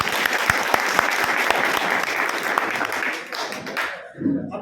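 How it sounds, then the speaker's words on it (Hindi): Vigorous applause from a crowd at a Valmiki community gathering backing a Rishikesh election candidate, dense clapping with sharp individual claps that fades out near the end, followed by a brief murmur of voices. "साथियों जोरदार तालियों के साथ"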